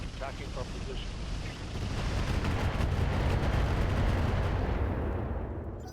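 Mortar fire in the video game RogueTech lands as a heavy, sustained rumbling barrage that swells and then holds loud and dense.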